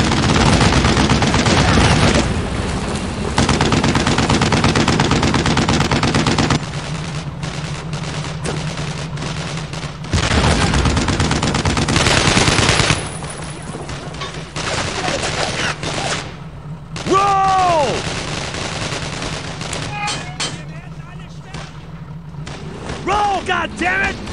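An MG-42 machine gun in Brothers in Arms hammers out long, loud automatic bursts, joined by other gunfire and shouting voices, before the firing thins out.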